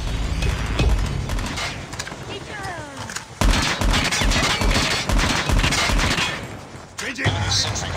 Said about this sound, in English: Be advised, hostile sentry gun spot.